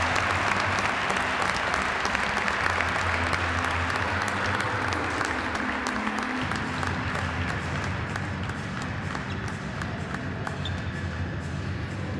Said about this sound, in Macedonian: Ќе биде испратена со аплауз.